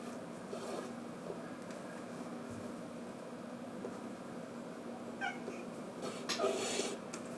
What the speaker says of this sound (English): My cat wants to throw her